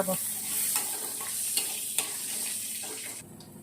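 Dry red chillies frying in a hot pan, a continuous close sizzle with a few sharp ticks of the spatula, fairly quiet and dropping off near the end.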